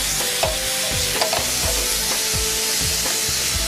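Beef charring in a hot wok, a loud continuous sizzle broken by rhythmic scraping tosses roughly every half second, with no talking.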